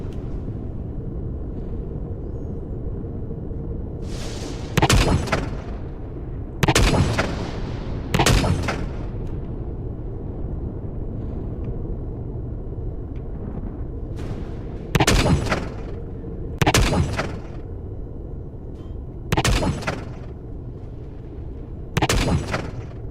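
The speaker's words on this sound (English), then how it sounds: "We got a lot of those little mini turrets on the outside of this thing yet." Mini turrets firing in the sci-fi survival game Empyrion Galactic Survival, with about eight sharp, loud shots arriving singly and in pairs at irregular intervals over a steady low rumble of background noise.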